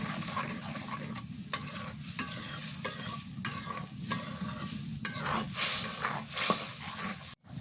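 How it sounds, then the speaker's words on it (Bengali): Coconut paste being stirred and fried in a pot with boiling water and salt, a scraping spoon and soft sizzle repeating in steady strokes, close and moderately loud with no talking. "নারিকেল দিলাম তো এটা ভালো করে একটু কষাই নেই"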